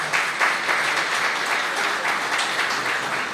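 Audience applause at a government office inauguration in Higüey, La Altagracia, a steady wash of clapping from a gathered crowd lasting throughout at even loudness.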